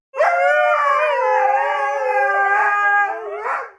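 Dogs howl loudly and close together in a home kitchen at mealtime, several overlapping wavering voices sustained for over three seconds before trailing off.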